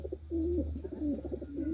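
Pigeons on an open rooftop give repeated soft cooing calls, several low rolling coos in a steady rhythm, close and clear over a low background hum.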